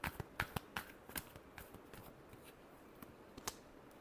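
Tarot cards are shuffled by hand in a quiet room, a soft run of crisp riffling flicks and light slaps, irregular and close, fading slightly toward the end.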